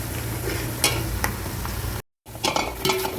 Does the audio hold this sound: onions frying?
yes